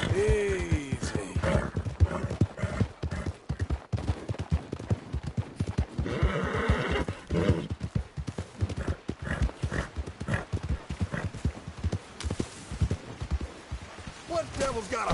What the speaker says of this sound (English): That horse is coming with me.